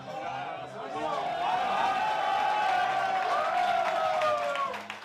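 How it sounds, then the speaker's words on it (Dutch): Applause breaks out in a café as a returning professional cyclist enters, a swell of clapping and cheering that builds and holds, with people talking underneath. "al moet hij wel even wachten op applaus"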